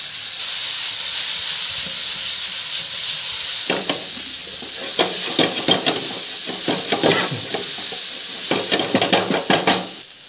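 Mushrooms and green chillies fry in a pan over a high flame, with a steady steamy hiss and then a flurry of crackling spatter and stirring scrapes that grows busier toward the end.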